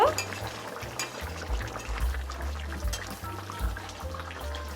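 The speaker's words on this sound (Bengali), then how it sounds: "জলটা দিয়ে আমি আবার চিকেনের সঙ্গে মিশিয়ে নেব।" Chicken for Bengali Dakbanglo chicken is stirred with boiled hot water in a pot, giving soft, faint scraping and clinking that runs throughout over a low, steady kitchen hum.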